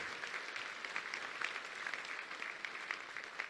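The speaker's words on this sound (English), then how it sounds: "let's give a big round of applause for Clark Feister here" Audience applause for Clark Feister at a talk, a steady wash of many hands clapping, fairly faint and distant, continuing without a break.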